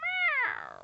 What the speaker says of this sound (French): Minou le chat se trouve dans son panier.